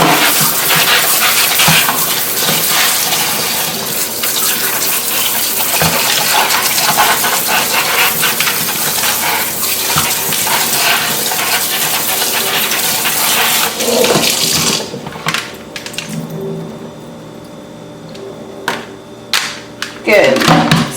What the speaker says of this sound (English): we're just going to take our bowl and pour it in there.